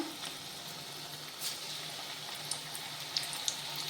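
Small drops of corn pakoda batter fry in hot oil on a medium gas flame, giving a soft, steady sizzle with occasional faint pops close by, with no talking.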